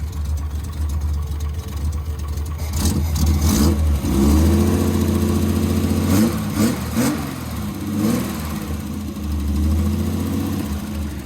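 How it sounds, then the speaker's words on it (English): A 1969 Triumph GT6+ engine idling up close, then revved several times in rising and falling bursts before settling back to a steady idle. "Let me rev it up a little bit."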